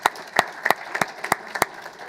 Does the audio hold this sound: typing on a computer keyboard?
no